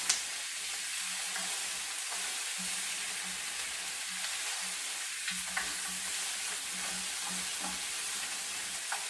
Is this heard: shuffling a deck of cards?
no